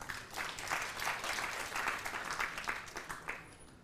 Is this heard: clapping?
yes